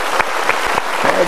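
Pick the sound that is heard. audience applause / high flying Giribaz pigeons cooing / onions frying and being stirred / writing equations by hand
audience applause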